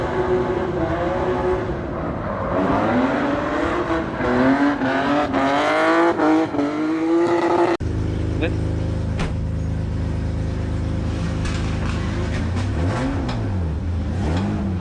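A car engine revs and surges repeatedly with rising and falling pitch while drifting, then after a cut a steadier engine drone with occasional tyre squeals, with talk mixed in.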